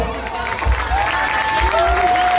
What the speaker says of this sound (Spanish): señor Alexis Mondelo, para quien pide un aplauso